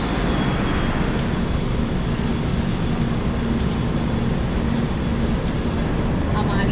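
Shatabdi Express train pulling out of Gurgaon station in Haryana: a steady, loud rumble of wheels and carriage noise heard from inside, continuous throughout with a faint whine, and a voice talking over it.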